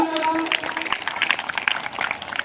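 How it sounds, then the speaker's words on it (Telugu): An audience claps at a Telugu religious sermon gathering, a steady patter of hands rising after a voice trails off at the start, moderately loud and continuous through to the end. "గట్టిగా చప్పట్లు కొడదామా?"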